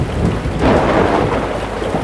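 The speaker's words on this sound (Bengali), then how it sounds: "মাঝ পদ্মায় ঝড়ের কবলে আমাদের নৌকা" Thunderstorm over the middle of the Padma river, heard from a boat: heavy rain pours steadily with deep, rolling thunder rumbling underneath, loud and continuous throughout.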